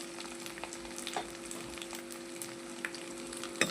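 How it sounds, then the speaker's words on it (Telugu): Pieces of boiled spleen fry quietly in a pan, giving a soft, steady sizzle with occasional light stirring clicks and taps and no talking. "చక్కగా ఫ్రై చేసేసుకోవాలి"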